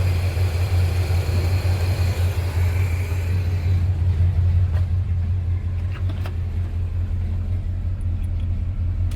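A deep, steady V8 rumble idles close by, with a rough low throb from an exhaust leak; a higher hiss fades out partway, leaving faint ticking. The engine is a 454 in a Chevrolet Squarebody Suburban.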